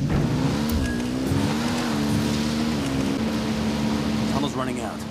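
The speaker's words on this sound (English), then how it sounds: "I'm riding the motorcycle." Motorcycle engine in the video game Ghost Recon Wildlands, a steady droning hum held loud and constant throughout the ride, with slight pitch wavers and gameplay noise layered on top.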